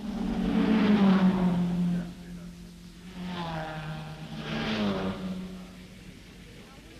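Race cars in the 1964 Tour de France Automobile roar past, engines rising and falling in pitch as they accelerate and fade, with a narrator speaking over the passing cars.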